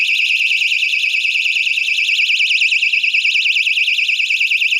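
A burglar alarm sounds after its power is cut, a loud, steady electronic siren with a fast warbling pitch that carries on unbroken and close throughout.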